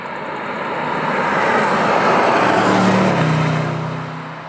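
A 2021 Land Rover Defender V8 Carpathian accelerates smoothly, its engine note swelling steadily to a loud peak and then easing off slightly, heard alone without talk.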